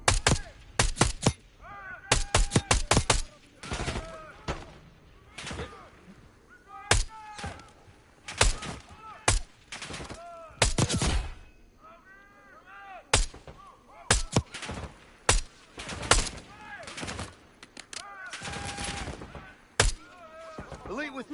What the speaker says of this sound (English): Mortar on the way.